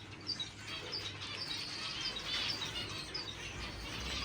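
Many small finches chirp and tweet in a breeding shed, a faint scattered chorus of quick high calls repeating throughout over a soft background hum, with no talking.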